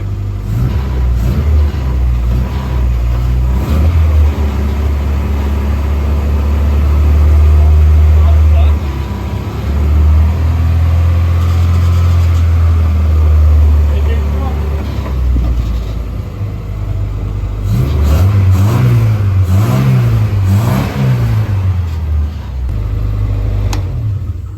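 A race car engine on axle stands, started after four months, runs and revs repeatedly in loud rising and falling surges, with gear changes toward the end; voices talk over it close by.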